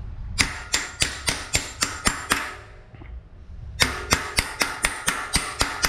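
A steel hammer strikes a steel wedge to seat a bearing on a Giant Trance e-bike, giving loud, sharp metallic blows in a quick regular rhythm, one brief pause, then another run of evenly spaced hits.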